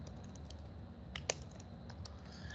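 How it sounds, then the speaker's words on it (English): Fingers type rapidly on a computer keyboard, giving soft, close, irregular key clicks with one sharper tap, quiet and alone without speech. "As I'm typing over here"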